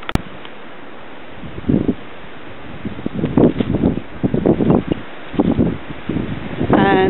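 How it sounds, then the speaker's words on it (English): Gusty wind sweeps over drifting snow the day after a March 2014 storm, buffeting the microphone in rough, uneven bursts of rushing noise, with a brief voice near the end. "so this is the wind"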